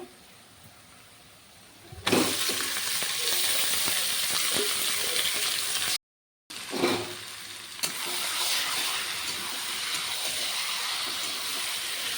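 Marinated mutton hitting hot oil with fried onions in a pan, a loud steady sizzle that starts abruptly and continues, briefly interrupted and then resuming as the frying goes on.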